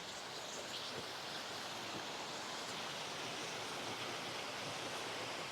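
Constant rushing of falling water from a mountain waterfall in the Great Smoky Mountains, a steady full roar with no breaks or voices, heard fairly close.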